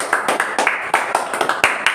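Students in a coaching classroom clapping for a classmate, a brisk run of fairly steady claps from a small group, heard close with no other sound over it.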